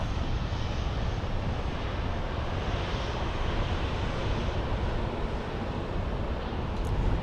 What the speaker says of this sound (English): And we've got the 737 heading out.